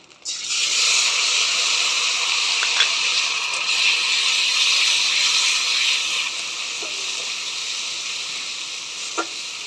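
Spice paste hitting hot oil already tempered with dried red chillies and whole cumin, cooking for a coconut-milk crab bhuna, gives a loud, steady sizzle from just after the start, easing slightly later, with a few small clinks and no talk.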